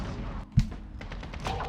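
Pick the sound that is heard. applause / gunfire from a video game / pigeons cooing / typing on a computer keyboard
gunfire from a video game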